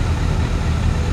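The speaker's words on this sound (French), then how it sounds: "il y a un moteur derrière" A car engine runs behind on a foggy mountain road in Italy, a steady low rumble holding close and constant with no voices over it.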